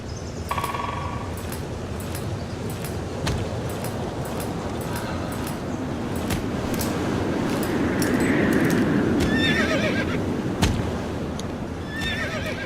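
Horse in the video game Star Stable, neighing and whinnying over a busy background of hoofbeats and in-game ambience, with a louder whinny near the end.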